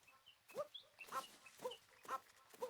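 A small cartoonish puppy yipping in Super Mario Odyssey: five short, faint barks spaced at a steady rhythm, heard alone.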